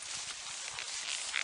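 Hooves of a gelding being lunged in a riding arena thud and clop in a steady, moderately close rhythm against broadband background noise, with no one talking.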